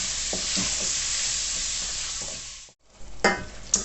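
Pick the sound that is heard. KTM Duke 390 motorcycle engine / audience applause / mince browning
mince browning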